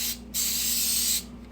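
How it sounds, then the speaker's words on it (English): Coconut oil cooking spray is sprayed onto a prepared baking sheet in two close, hissing bursts, the first brief and the second longer, with a short pause between. "We're going to spray"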